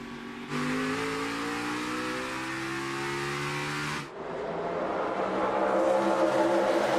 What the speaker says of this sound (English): Teammates Larson and Elliott down into turn 1